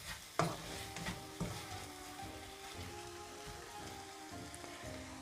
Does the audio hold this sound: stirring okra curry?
yes